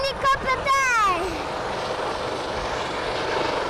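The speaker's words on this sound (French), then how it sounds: "Regardez les hélicoptères!" Dauphin firefighting helicopters fly past during a water-pickup training run over the sea, their rotor and engine noise rising and then fading into a steady distant drone, with voices heard near the start.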